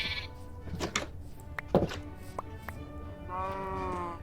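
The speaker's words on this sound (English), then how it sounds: "This way I can grab the wool off the sheep." Sheep bleating in Minecraft alongside the snip of shears taking wool, a few short thunks and bleats, with a longer sustained bleat near the end, fairly quiet.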